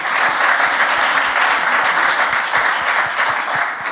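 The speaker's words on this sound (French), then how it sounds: "Ah, on peut applaudir." Dense, sustained applause from a large audience, loud and even throughout with no pauses.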